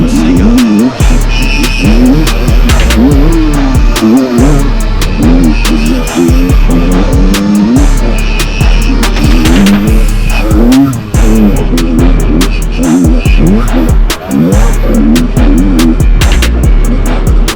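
A 1984 Yamaha DT dirt bike with hub brakes and a worn rear tire, ridden hard through mud in tropical monsoon rain; the engine drones loud and close throughout, rising and falling steadily with continuous revving.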